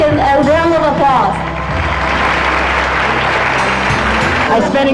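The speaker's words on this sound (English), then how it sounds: "Please give him a round of applause." A crowd breaks into sustained applause at a school event, with dense clapping running loud and close for several seconds after a voice speaks at the start.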